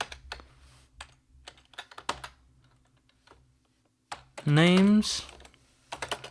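Keystrokes on a computer keyboard while entering C# code, a quick irregular patter of close clicks in bursts, broken by a loud vocal sound and brief speech in the middle.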